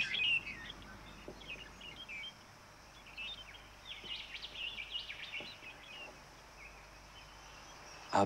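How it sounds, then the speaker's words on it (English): Small birds chirp and tweet softly in a quiet outdoor setting, scattered short calls coming in loose bursts, faint and somewhat distant. "Little birds."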